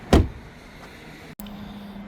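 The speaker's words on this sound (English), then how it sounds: "So let's shut this door and open the next door." A car door on a 2025 BMW M340i in Portimao Blue Metallic swings shut with one solid, close thump near the start, followed by a low steady hum and a brief click.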